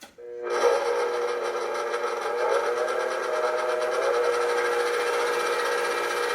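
Electric mixer whipping egg whites in a bowl: a steady, loud, high whirring drone that starts abruptly and holds unbroken, with no one talking.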